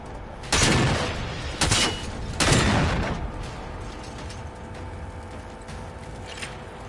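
A machine gun in a video game fires a few loud, close bursts of rapid shots, each trailing into a decaying rumble, followed by a quieter mechanical background.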